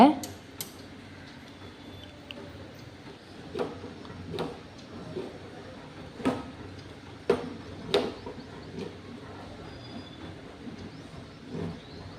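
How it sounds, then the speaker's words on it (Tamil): Milk being stirred in a pot for Madurai Meenakshi Amman temple kalkandu pongal, with scattered metallic scrapes and clinks of a ladle against the pot over a low background hum. "ஒரு ரெண்டு நிமிஷத்துக்கு கிளறி விட்டுக்கிட்டே இருங்க"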